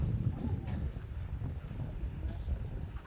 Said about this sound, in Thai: โอ้ ลมแท้ลมมาพี่น้องลมบ่ได้โคกอยู่นี่แหละ